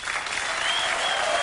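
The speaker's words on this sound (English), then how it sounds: "a feeble smattering of applause from the home office in Oklahoma City, Oklahoma" Applause from a studio audience on a late-night talk show, a steady wash of many hands clapping at moderate volume, continuous and fairly close.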